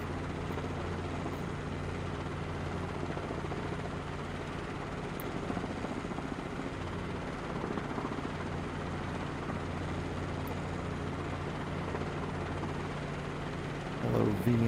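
A helicopter flying in a video game, its steady rotor thump and engine drone continuing evenly throughout at a moderate, unvarying level.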